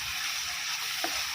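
Country chicken sautéing with turmeric powder gives a steady, even sizzle throughout, near and alone, with one faint scrape of a spatula partway through.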